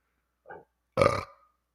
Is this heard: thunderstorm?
no